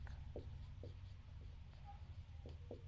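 A pen scratches out a math solution on paper, with short, close strokes in an irregular rhythm over a steady low room hum.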